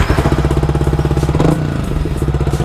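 Motorcycle fitted with an Akrapovic full exhaust system and silencer revving up close, a loud throbbing engine pulse with a quick throttle blip midway before settling back into a steady rumble.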